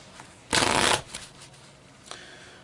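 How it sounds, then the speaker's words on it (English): Playing cards are riffle shuffled in one quick, loud, close burst of rapid flutter lasting about half a second. Softer card rustles come before it and after it. "the cards will riffle together on their own"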